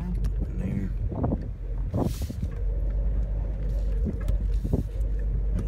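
Wind buffets a microphone while riding a ridgeline loop, a rough, gusty rumble under a close voice speaking briefly, with a few sharp bursts of noise.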